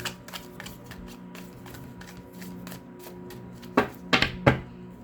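Tarot cards are shuffled in a rapid series of soft riffles and flicks, ending with a few louder slaps, close up with no talking.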